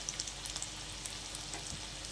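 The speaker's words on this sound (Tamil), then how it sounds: "ஒரு 2 நிமிஷம் to 5 நிமிஷத்துலேயே நீங்கள் பொரிச்சு எடுத்துக்கோங்க" Spice-coated baby corn chilli fries in hot oil, a steady dense sizzle with small crackling pops, close and continuous, with no voices.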